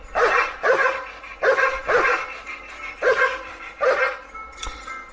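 A dog barks in five or six loud, evenly spaced bursts, close by and alone, with a faint click near the end.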